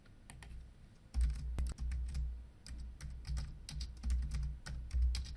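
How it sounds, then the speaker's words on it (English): Someone types quickly on a computer keyboard, producing a close, steady patter of key clicks with a few heavier thumps, with no voices. "I'm just going to quickly type some new text"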